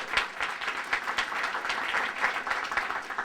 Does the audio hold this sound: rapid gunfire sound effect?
no